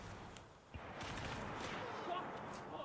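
Gunfire in the video game Battlefield Bad Company forms a dense, noisy wash of distant shots and rumbling blasts, with a few sharper cracks, over about three seconds.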